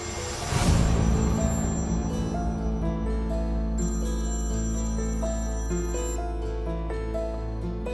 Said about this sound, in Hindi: बेल जा रही है, फोन नहीं उठा रहा है।